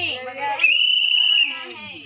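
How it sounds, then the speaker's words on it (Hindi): A whistle is blown during a dengue and malaria awareness drive in Rajnandgaon, Chhattisgarh. One shrill, steady, sustained blast lasts under a second, with voices and chanting on either side of it. "छत्तीसगढ़ के राजनंद गांव में सीटी की ये आवाज खास है"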